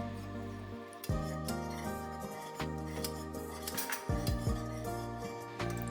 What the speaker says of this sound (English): Slowly pour the milk as you're whisking